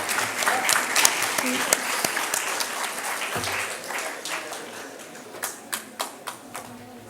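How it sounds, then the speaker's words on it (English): Sustained applause from a large crowd at an awards announcement fills the room, then thins into a few scattered, distinct claps at the end. "Can we have a huge round of applause,"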